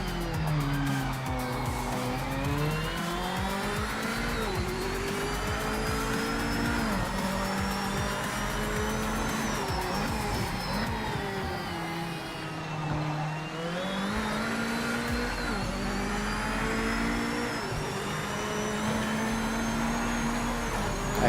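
Race car engine in the sim game Project Motor Racing, a continuous loud roar that rises and falls as the car accelerates, shifts and brakes through corners, with faint tire noise and no voices.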